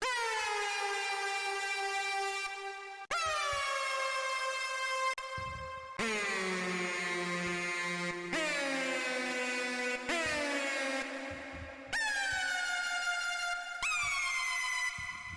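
A bright, sustained synthesizer lead made in Native Instruments Massive plays a slow sequence of long held notes with sharp attacks, rich in buzzy harmonics, loud and alone.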